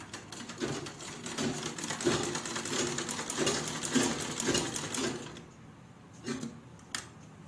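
A sewing machine stitching piping onto a princess cut blouse, running close and fairly loud in a rapid rhythmic chatter for about five seconds, then slowing to a few faint, isolated clicks.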